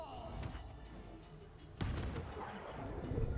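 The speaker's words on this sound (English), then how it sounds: "there's her magic missile" A magic missile spell in Baldur's Gate 3 lands with one sudden booming impact partway through, above a low rumbling game backdrop, with a voice faintly present.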